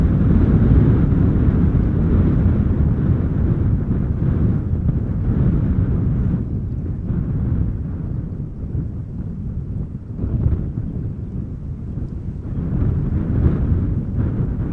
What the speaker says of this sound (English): Our next airplane is visible and is arriving from JD's hometown Düsseldorf, an Embraer 175 KLM flight